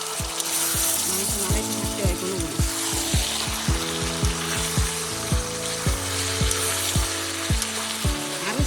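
Mutton frying in a pan as it releases its water, a loud continuous sizzle with a strong rhythmic thudding and a humming tone running through it, close up, and a voice speaking faintly in the background.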